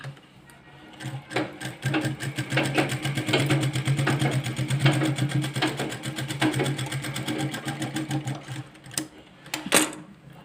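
A sewing machine stitches a dotted-shape belt onto the front part of a dress, running in a steady rapid whir with a few brief stops and restarts.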